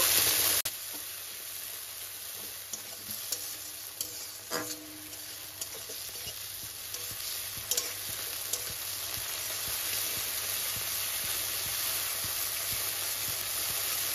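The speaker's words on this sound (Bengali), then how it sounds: "এবার টমেটো কুচিটাকেও একটু নাড়াচাড়া করে নেব" Chopped onion and tomato sizzling in oil in a pan for a Bengali bele fish curry, a constant close hiss with scattered scrapes and taps from stirring, no voices.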